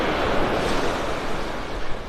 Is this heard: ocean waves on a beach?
yes